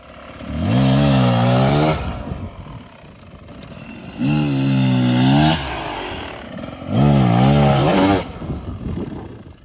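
A dirt bike on an enduro training run revs hard three separate times, each rising engine pull cut off as the rider brakes to the maximum, with short gaps between the loud, close bursts.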